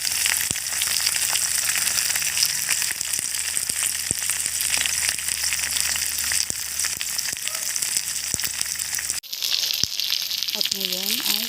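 A pork hock fries in a pot with whole peppercorns and bay leaves, giving a steady loud sizzle with crackling pops that cuts off abruptly near the end. A voice talks over the frying.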